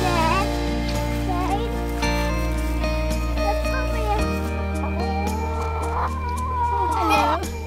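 Chickens cluck and squawk nearby over a steady musical backdrop, with a voice chiming in now and then.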